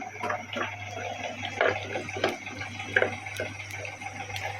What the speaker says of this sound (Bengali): এই যে আলুগুলো ধুয়ে নিচ্ছি